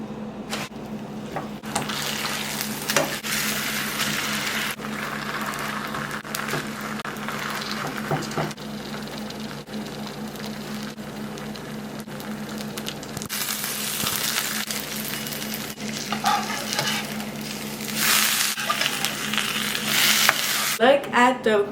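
Trader Joe's birria tacos cook in a pan with a continuous close sizzle, swelling louder in stretches, while occasional clinks and scrapes of handling break through.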